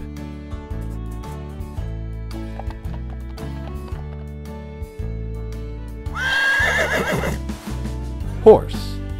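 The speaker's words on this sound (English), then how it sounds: "Horse." A loud horse whinny rises sharply over a steady musical backing, shaking and fading, followed by a brief snort.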